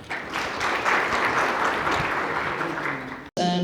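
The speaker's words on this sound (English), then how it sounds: "Round of applause for our presenters." An audience at an orthopedics and traumatology society annual meeting gives presenters a round of applause, a steady, fairly loud wash of clapping that cuts off abruptly near the end before a voice speaks.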